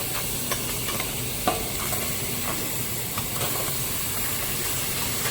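Chicken cooks without oil in a preheated waterless, fat-free pan, giving a steady, dense sizzling hiss that stays even and unbroken from start to finish.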